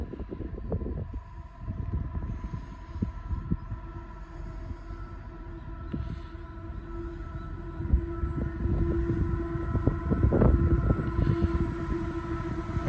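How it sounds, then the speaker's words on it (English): A Pacific National coal train, led by locomotive 93/16, rolls past platform one at Branxton Railway Station with a loud, steady rumble and tonal hum that swell toward the end, with no talk. "we've got a Pacific National coal train coming past platform one here at Branxton Railway"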